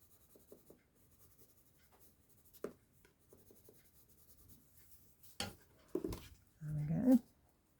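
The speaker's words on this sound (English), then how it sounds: "I'm going to use a green pencil" A green pencil scratches in short, faint colouring strokes on a decorative piece in a quiet room, followed near the end by a few louder rustles and handling knocks.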